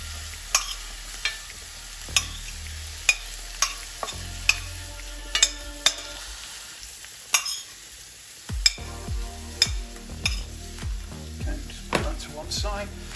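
Vegan lobster with paprika sizzling in a pan for linguine, steady frying hiss broken by regular sharp scrapes and knocks of a utensil stirring, close and fairly loud, with a voice faintly in the background.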